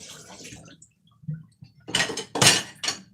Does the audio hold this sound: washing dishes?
yes